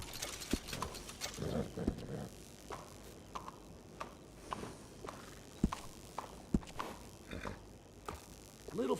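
Scattered soft brushing strokes, light clops and thumps come from a horse being groomed in Red Dead Redemption 2, irregular and close under faint ambient noise, with no talking.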